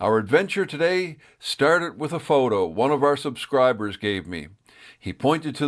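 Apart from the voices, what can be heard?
No distinct noise like a dog, phone or traffic.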